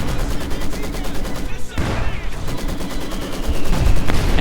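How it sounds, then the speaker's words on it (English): Field gun and other weapons firing in the Company of Heroes 2 strategy video game, a dense continuous barrage of gunfire and blasts with a heavier boom midway, under a constant bed of battle noise. "field gun fire threatening to take out the MG42 crew"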